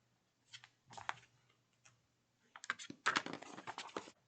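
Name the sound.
finger blade trimming paper overhang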